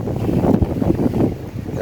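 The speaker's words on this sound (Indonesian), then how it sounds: "Ya anginnya lumayan kencang mas bro" Strong wind gusting across a fishing beach, a steady rushing roar with buffeting on the microphone and a faint wash of surf beneath, continuous and close, with no voices.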